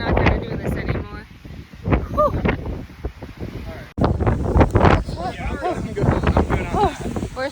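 Strong gusty wind at a high viewpoint in Iceland, loud roaring buffets against the microphone that drop out briefly and then hit harder, with people talking throughout.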